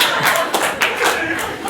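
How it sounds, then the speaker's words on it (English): Clapping rings out from the back of a small venue, a dense, steady patter of hands lasting under two seconds with no voices over it. "An odd sound of clapping came from the back."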